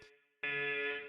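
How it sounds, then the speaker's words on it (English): An alarm blares in a steady, loud electronic buzz, starting abruptly after a brief fainter tone and holding continuously. "that's the alarm"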